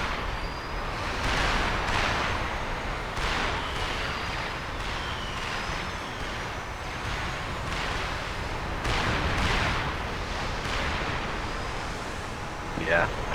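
Rows of guns firing at incoming ships in a military video game: repeated booming bursts of gunfire over several seconds against a continuous rushing, wind-like background, with someone talking throughout.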